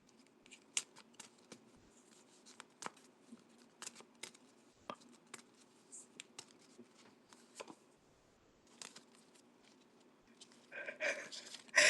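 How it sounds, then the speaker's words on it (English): Quiet, intermittent riffling and soft card snaps over several seconds, ending in a louder burst of rapid shuffling. "let me shuffle them real quick"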